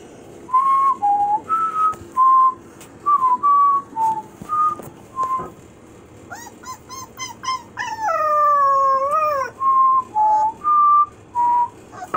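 A person whistles a series of short notes, and a puppy answers with rising howls and whimpers before the whistling resumes.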